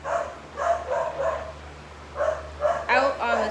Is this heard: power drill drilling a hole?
no